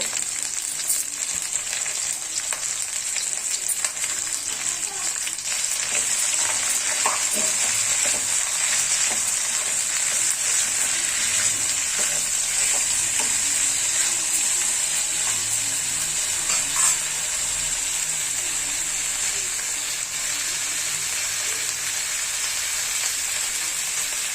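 Potato and mint masala gravy sizzles steadily in a pan while being stirred, a dense continuous frying hiss with soft scrapes running throughout, close and fairly loud with no talking.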